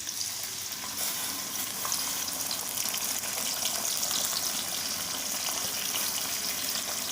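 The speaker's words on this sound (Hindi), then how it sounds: "हमने इसके अंदर प्याज डाल दिए हैं" Chopped onions frying in hot oil in a kadhai, a steady, close sizzle with crackling throughout and occasional stirring scrapes, no voices.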